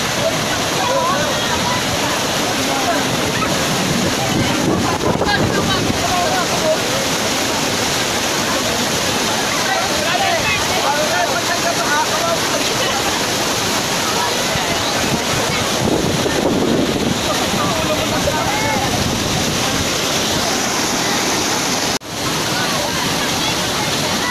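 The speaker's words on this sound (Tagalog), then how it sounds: "Yung tubig na yung running water yan, galing bundok" Mountain water at a waterfall rushes in a loud, continuous hiss and roar that stays close and steady throughout, with occasional wind buffeting.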